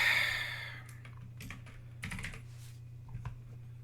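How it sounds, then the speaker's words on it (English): Typing on a computer keyboard sounds as scattered light key taps in short clusters over a steady low background hum, close and fairly quiet, with no voices. "I forgot I have to type in this one."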